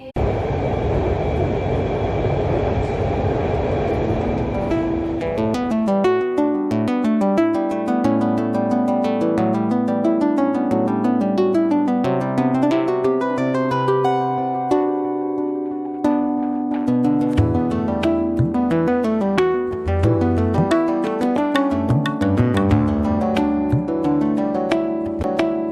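An Orange Line metro train in Lahore rumbles along with a steady, loud rolling noise. A few seconds in, melodic music rises over it and carries on above the constant train sound.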